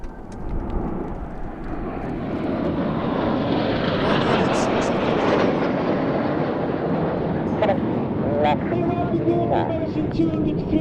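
Display aircraft fly over the Duxford air show, a loud, steady engine roar that swells and holds as the plane passes close overhead, with wind buffeting and a commentator's voice faintly underneath.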